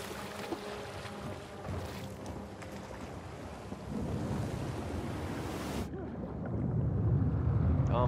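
Motorboat engine and propeller churning through water in the Uncharted 4 video game, a steady loud broadband roar with splashing and wind-like rush that swells louder toward the end.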